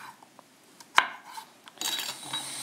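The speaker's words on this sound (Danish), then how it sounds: "Så har jeg skåret alle mine grøntsager" A knife cuts peeled carrots into strips on a board, with one sharp close chop followed by scattered light taps and a rougher scraping stretch of cutting toward the end, with no talk.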